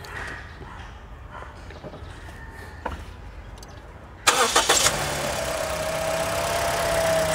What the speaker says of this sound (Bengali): আমরা আপনাদেরকে গাড়িটির যে ইঞ্জিনের সাউন্ডটা রয়েছে সেই সাউন্ডটা একটু শোনাবো